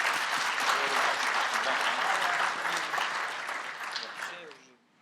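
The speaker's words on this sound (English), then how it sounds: "let's give a round of applause for Magento" An audience at the MageConf 2019 conference in Ukraine applauds Magento with loud, dense clapping that fades out toward the end.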